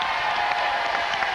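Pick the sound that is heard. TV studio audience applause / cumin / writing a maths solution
TV studio audience applause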